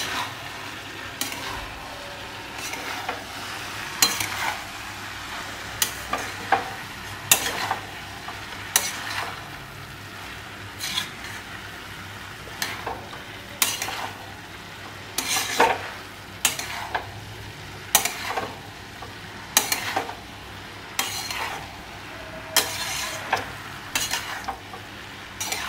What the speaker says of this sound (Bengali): বাঁধাকপিটা দিয়ে ভালো করে আমি নাড়িয়ে চাড়িয়ে নেব।